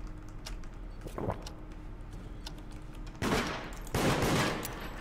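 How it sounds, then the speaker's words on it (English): Gunfire from the online horror game Deceit, with a faint shot early on and two loud bursts in the last two seconds, the second ringing out before fading. "Can you stop shooting at me?"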